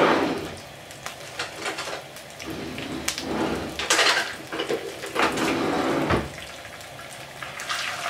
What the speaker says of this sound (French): Dans un poêle, vous chauffez l'huile et ensuite vous ajoutez les grains de cumin. Vous mélangez vite fait comme ceci.